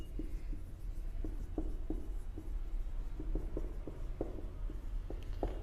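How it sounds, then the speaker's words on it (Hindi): Chalk or marker tapping and scraping across a board during a lecture on water supply and filtration, with regular short strokes over a steady background hum and no talking. "दोबारा लिखता हूं"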